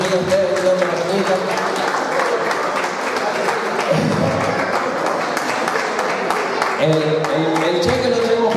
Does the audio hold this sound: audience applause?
yes